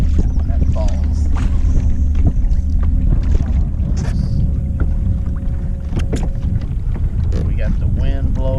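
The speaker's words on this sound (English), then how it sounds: "We got the wind blowing hard, windy, backlashing." Strong wind buffets the microphone on a fishing boat out on Falls Lake, North Carolina, a steady low roar with water lapping, and someone talks over it throughout.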